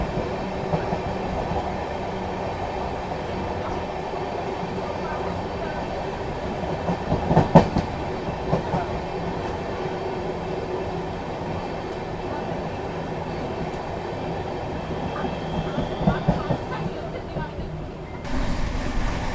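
An Amrit Bharat Express train, the Rajendra Nagar service, crossing in the opposite direction past a moving Banaras–Sealdah Amrit Bharat Express; a steady rumble and rattle of rail cars heard from inside a coach for nearly twenty seconds, with brief louder clatters.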